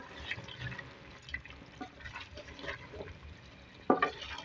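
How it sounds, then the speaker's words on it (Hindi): Beef, potatoes and spices are fried and stirred in a pot, giving a soft, steady sizzle with quiet scraping and wet stirring noises, then a sharper clatter near the end. No one speaks. "अब इसको भुनेंगे थोड़ा सा नाज़रीन, मसाले और आलू और गोश्त के साथ।"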